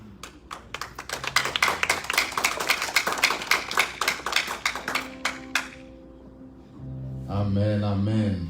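Church congregation at a Haitian church service claps in rapid, dense bursts for about five seconds, then the clapping thins out and a voice with music takes over.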